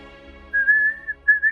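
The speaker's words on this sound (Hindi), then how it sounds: "बंद करो सीटी बजाना।" Someone whistles a short, shrill, nearly steady tone, breaks off briefly, then starts a second whistle, heard up close in a quiet indoor room.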